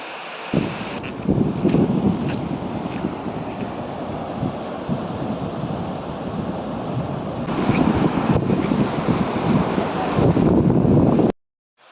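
Gentle surf of small waves washes in continuously on the beach at Mandarmani, with wind rushing across the microphone, a steady outdoor roar with no voices.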